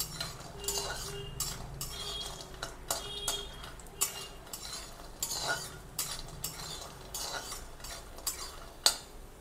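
Lentil dumplings (bori) are stirred in a pan with light frying, giving repeated metallic clinks and scrapes of a spatula over a soft, low sizzle.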